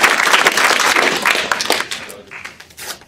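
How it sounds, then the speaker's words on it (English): Applause from an audience at a financial modeling world championship awards ceremony, a dense burst of clapping that gradually thins and fades over a few seconds, with a voice speaking briefly as it dies down. "A round of applause for David."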